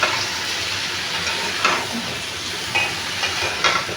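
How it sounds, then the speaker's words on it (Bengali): Ridge gourd, potato and shrimp cook in a pan with a steady, close sizzle, broken by a few brief stirring scrapes. "ঝিঙ্গা দিয়া আলু দিয়া চিংড়ি মাছ রান্না করতেছে।"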